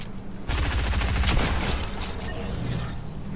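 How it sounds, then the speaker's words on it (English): A railgun fires in the video game Fortnite: a sudden loud mechanical burst with a whirring, ratcheting rattle that holds steady, then fades slightly over about three seconds, with no talking. "I love this railgun"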